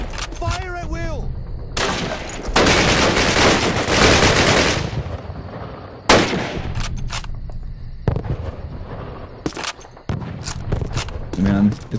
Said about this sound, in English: The sounds, the gunfire, yeah, dude?